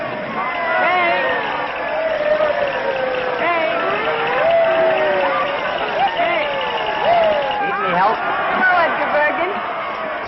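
A New Year's Eve street crowd in a 1938 film: a steady, dense babble of many voices with scattered calls and shouts, all at a constant level on a thin, old-fashioned soundtrack.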